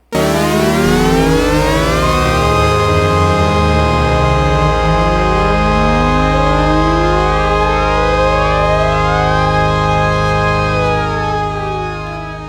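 Several Memorymoog Plus synthesizer voices glide at once, crisscrossing pitches sweeping up and down in a dense, loud, continuous chord-like wash.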